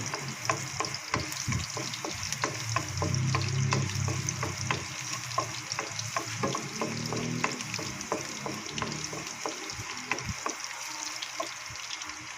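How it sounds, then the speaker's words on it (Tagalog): Garlic sautés in hot oil in a pan (kawali), a continuous close sizzle and crackle with steady popping and occasional stirring scrapes throughout. "Ayan, meron ng mantika yung ating kawali. Naglagay na tayo ng bawang."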